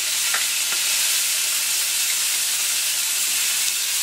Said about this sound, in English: I'm going to start with the onions. Hear that sizzle, kitchen smelling nice.